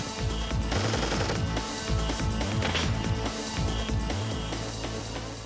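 Bursts of automatic gunfire as Green Berets come under fire near a cave complex, crackling through a dense, loud music bed with no clear pauses.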